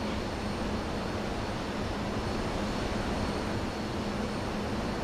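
Steady, dense roar of a Grumman F-14A Tomcat jet engine in Microsoft Flight Simulator, constant and loud throughout with a low droning hum and no talk.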